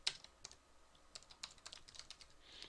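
Someone types on an unusual computer keyboard while coding a Java client GUI, a quiet, irregular patter of individual key clicks over a soft hiss, with no voices.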